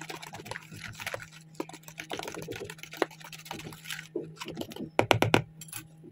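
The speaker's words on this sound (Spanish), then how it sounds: "Vamos a revolver muy bien." A vinegar and water cleaning mixture is stirred briskly in a container, giving quick clattering and sloshing taps with a few louder knocks near the end, close by and without talk.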